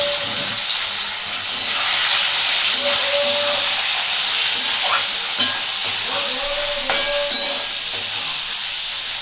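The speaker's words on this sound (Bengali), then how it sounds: "দেখো চিংড়ি মাছ যেগুলো ছাড়ানো আছে আমি এগুলো এর মধ্যে দিয়ে দেবো।" Peeled prawns frying in hot oil give a loud, close hiss of sizzling and steam, with scattered scrapes and taps of stirring and no talk.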